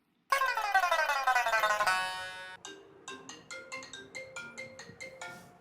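A mobile phone rings with a bright electronic ringtone: a rapid rising flourish, then a repeating run of short melodic beeps, clear and close with no voices.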